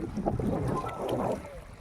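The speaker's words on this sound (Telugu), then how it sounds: "యువతల నుంచి అవతల వరకు బల్లకట్టు మీద ప్రయాణం జరుగుతుందండి" A river ferry raft crossing from one bank to the other, with steady engine and water wash under wind noise, close and continuous with no talk.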